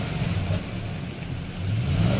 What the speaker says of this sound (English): But I think that's a running truck now.